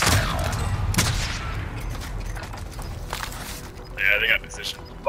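Gunfire in Call of Duty: Modern Warfare, sharp bursts and rattling shots mixed with footsteps and movement, loudest at the start and around the one-second mark, with a voice talking over parts of it.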